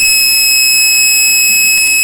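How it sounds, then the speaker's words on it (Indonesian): A buzzer wired to a microcontroller panic button sounds loud and shrill. The tone is steady and continuous and fills the whole stretch without a break. "apabila saat buzzer kita aktifkan atau ditekan, maka buzzer akan langsung aktif"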